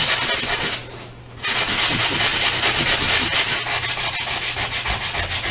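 Fine-grit sandpaper or a nail file rubbing across an embossed paper background, a steady, close, rhythmic scratchy scrubbing with a brief pause near the start, no voices.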